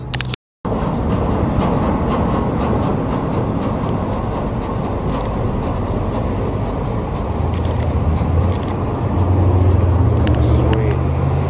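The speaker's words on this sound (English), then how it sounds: "The Amtrak should be coming down in a minute." An Amtrak train hauling a 50th anniversary locomotive rolls past at night, a loud continuous rumble of wheels on rails growing heavier toward the end, with people talking over it.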